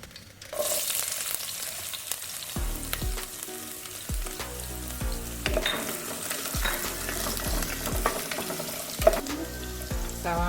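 Onion sizzling in hot oil with dried red chilies and curry leaves, a continuous close crackle and hiss overlaid by repeated rhythmic scraping and tapping of a spatula on the pan, no voices.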